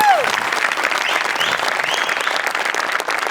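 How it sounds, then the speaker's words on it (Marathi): Audience applause in a comedy-show studio, a steady burst of clapping from a crowd lasting a few seconds, close and fairly loud, with a brief vocal sound at the very start. "एकदा जोरदार टाळ्या माझ्यासाठी झाल्या पाहिजेत."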